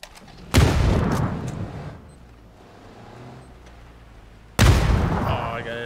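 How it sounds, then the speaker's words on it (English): A frag grenade going off in the battle royale game PUBG: two sharp, loud blasts about four seconds apart, each followed by a rumbling tail. "Oh, I got hit by a frag."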